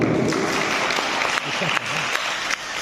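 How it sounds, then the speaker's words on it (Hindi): Loud applause from a crowd welcoming a high-school student winner at a national children's science congress, a dense continuous clatter of hands close and strong throughout. "जोरदार तालियों के साथ स्वागत कीजिए"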